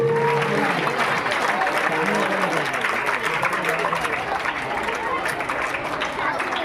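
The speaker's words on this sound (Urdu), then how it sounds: "زوردار تالیوں کی گونج آنی چاہیے۔" A hall full of people claps hard and continuously at a school retirement function, the dense applause staying loud and even throughout, with some crowd chatter mixed in.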